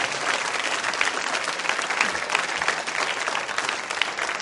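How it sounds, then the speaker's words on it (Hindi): Sustained, dense applause from a school audience at a quiz show event, steady and loud throughout with no pauses and no talking over it. "सम्मान में, श्रद्धा के लिए तालियां जोरों से बजाइए उनके लिए आप।"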